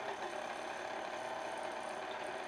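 An electric mixer runs slowly through gluten-free cookie dough with all-purpose gluten-free flour, a faint, even mechanical whir with a light rattling texture and no talking.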